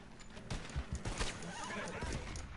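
A horse in the video game Red Dead Redemption 2 whinnies over a run of clip-clopping hooves, close and fairly loud, with some game noise around it.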